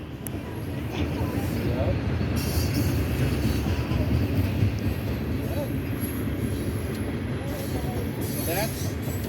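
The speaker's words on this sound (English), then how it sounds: "It's a long train." A long freight train with oil tank cars rolls steadily past with a continuous rumble and wheel noise, its level holding even throughout with faint squeals now and then.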